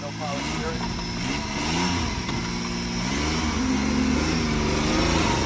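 A twin turbo Nissan 370Z pulling away with a rising engine note, close and fairly loud, with voices speaking over it.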